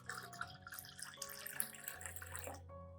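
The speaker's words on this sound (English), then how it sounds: "Finally, add 1 liter of clean water to dilute the coffee and oat solution." Clean water poured into a coffee and oat fertilizer solution for orchids, a steady splashing trickle with faint dripping at moderate level and no talk.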